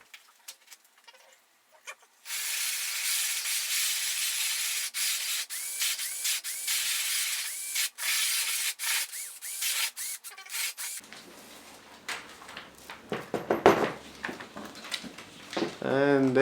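A 32mm hole saw bores through the plastic fairing of a Yamaha R1 during a frame slider fit, giving a steady, close abrasive grinding and rasping that runs continuously for several seconds, then turns rougher and more uneven as the cut finishes.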